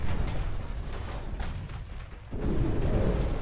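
Torpedoes strike a warship in Ultimate Admiral: Dreadnoughts, a continuous barrage of loud, overlapping booming detonations with sharp cracks. There is a brief lull, then a fresh heavy surge of blasts.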